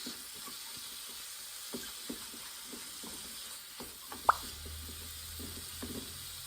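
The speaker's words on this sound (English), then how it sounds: "please stir fry it well" Shredded carrots and tuna are stir-fried for Japanese ninjin shirishiri with faint taps and light plops over a soft sizzle, and one sharper clink sounds about midway.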